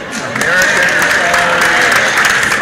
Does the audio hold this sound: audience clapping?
yes